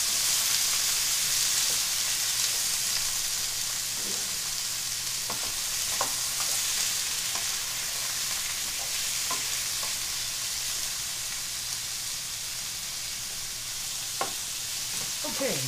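Pork frying in a very hot pan gives a steady, loud sizzle throughout, with occasional light clicks of stirring and no talking.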